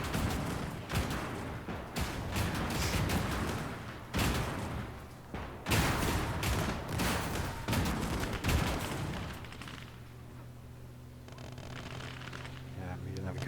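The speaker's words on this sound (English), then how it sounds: "Annoying gun that he is. Keeps firing at me." Enemy gun in the Gates of Hell strategy game keeps up repeated bursts of gunfire in a Battle of Moscow skirmish, dense and loud for most of the stretch before easing into a lower rumble of battle noise.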